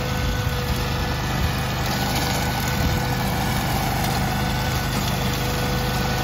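Honda GX690 twin-cylinder engine on a Canycom four-wheel-drive riding mower, idling with a loud, steady, close-up rumble that holds constant throughout, with no talk.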